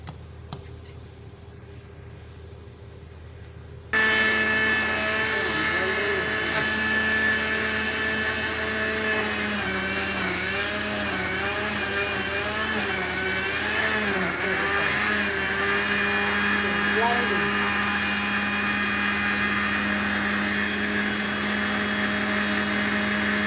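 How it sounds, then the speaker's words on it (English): A kitchen blender whirs loudly and steadily while blending a smoothie, kicking in abruptly after a few seconds of quiet and holding a high motor whine with slight pitch wobbles throughout. "Put it inside the blender and blend it."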